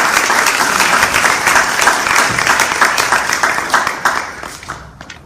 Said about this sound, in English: Can we give it a round of applause for Rich?